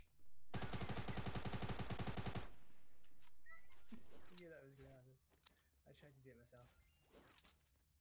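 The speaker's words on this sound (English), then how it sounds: "Now I waste all my goddamn machine gun bullets." A machine gun in Fortnite fires one rapid, evenly spaced burst lasting about two seconds, loud and close, followed by a ringing tail and then someone talking.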